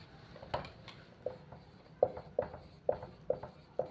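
Chalk or marker writing on a board in a chemistry lecture room, a series of faint, quick scratchy strokes in an irregular rhythm, heard alone at low volume.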